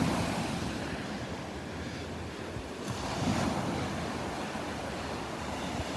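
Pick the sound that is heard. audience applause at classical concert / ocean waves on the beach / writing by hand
ocean waves on the beach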